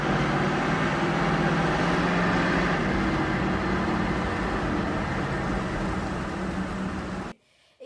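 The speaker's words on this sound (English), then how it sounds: "firstly, you hear the sound of the car engine, which slowly gets quieter as the camera track passes" A car engine from a Goodfellas film scene rumbles as a steady, loud low drone, easing slightly as the camera passes before dropping away abruptly near the end.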